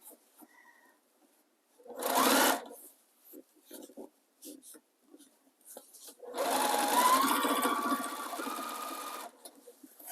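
A sewing machine stitches through bulky fabric in short bursts: a brief run of stitches, a pause with a voice talking, then a longer steady whirring run, close and clear.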